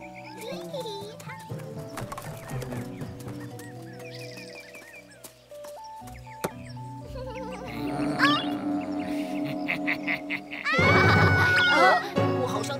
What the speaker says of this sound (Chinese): 听到美羊羊的尖叫了